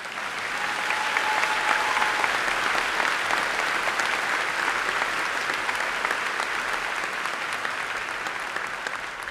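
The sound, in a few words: audience applause at graduation ceremony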